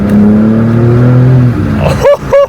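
A car engine with its exhaust valves opened idles with a loud, low droning rumble close by, then revs in two short, sharp blips near the end.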